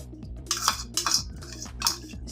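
A spoon scrapes and clinks against a bowl in quick repeated strokes while yogurt is stirred, close and fairly quiet with no talking.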